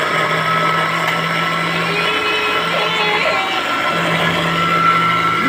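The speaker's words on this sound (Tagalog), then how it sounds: "Blender." A blender whirs steadily while making a milkshake in a home kitchen, a continuous motor drone with a shifting pitch that lasts throughout, with voices talking faintly in the background.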